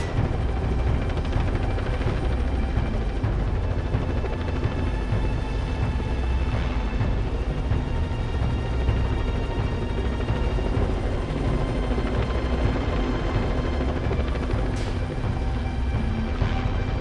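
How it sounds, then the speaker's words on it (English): A Venezuelan army helicopter airlifting giant tower crane sections churns with a loud, steady rotor and engine roar that stays constant and close throughout. "A helicopter on loan from the Venezuelan army was used to fly in the different pieces of the giant"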